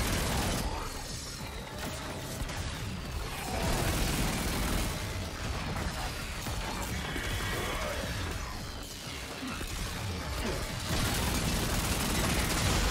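Continuous rapid gunfire in Warframe, a sci-fi shooter game, with dense overlapping bursts, pops and mechanical clatter sustained loudly throughout, no voices.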